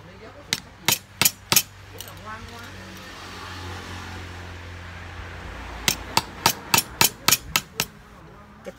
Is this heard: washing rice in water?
no